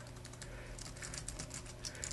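Typing on a computer keyboard: a quick, even stream of soft, light key clicks, close but quiet, with no voices.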